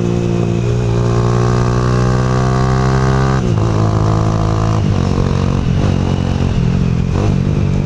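A Honda Titan 150 motorcycle engine revs hard and steadily, its pitch climbing then dropping in several repeated throttle blips, loud and close with no talk over it.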